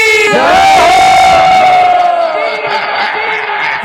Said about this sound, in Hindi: दोनों हाथ इसे उठा करके जोरदार जयकारा और ताली